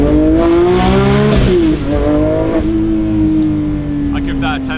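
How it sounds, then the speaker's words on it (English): A stock Porsche 911 S/T exhaust revs hard and loud, pitch climbing and dropping across a few throttle blips before settling into a steady drone. "I'm very excited about this ST on the exhaust test wall. Let's see what it sounds like."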